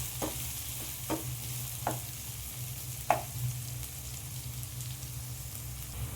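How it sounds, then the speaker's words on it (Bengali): Four sliced onions fry in hot oil in a pan for chicken biryani, giving a soft, steady sizzle over a low hum, with a few distinct spoon taps against the pan. "দিয়ে ভালো করে আমি পেঁয়াজটা ভেজে নেব"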